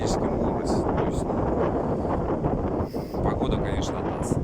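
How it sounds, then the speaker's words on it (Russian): Very strong gusting wind buffets the microphone in a loud, continuous roar during hurricane-force weather in St. Petersburg, with a brief dip near the end. "Сейчас очень сильный ветер, очень сильный ветер."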